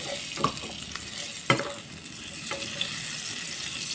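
Garlic sizzles in hot leftover pork chop frying oil in a pan, a steady broadband hiss punctuated by a few sharp crackles and pops, close and alone with no talk.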